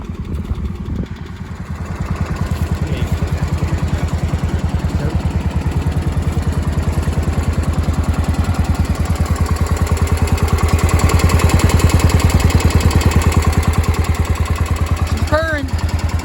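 A 50-year-old Cub Cadet 1250 lawn tractor, revived after sitting unused for 20 years, idles steadily and loudly with a close, even, chugging engine rumble throughout and a brief voice near the end.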